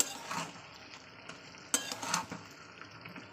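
Cabbage and chicken being stirred and sautéed in a pan, with a soft steady sizzle broken by scraping strokes of a utensil and a few sharper clinks, close and alone.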